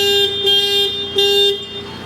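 A Hyundai i10 horn sounds during an electrical check at a service garage: two loud, steady, near blasts, the first about three-quarters of a second and the second slightly shorter, separated by a brief gap.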